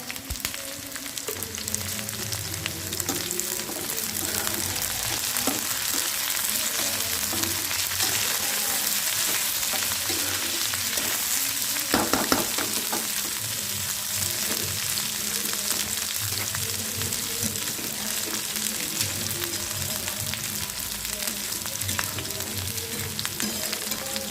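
A paste of vegetable peel with black cumin fries in a pan, giving a steady moderate sizzle for over twenty seconds with occasional soft stirring scrapes and a brief rattle around the middle; no speech.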